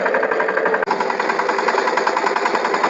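Power tiller engine running steadily while making ridges in a cotton field, a loud continuous mechanical drone with dense rhythmic pulsing and one brief dip partway through.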